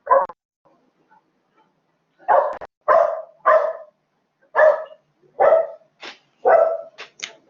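A small dog barks in about eight short, sharp bursts at close range, with a brief pause after the first bark before the rest follow in an uneven series.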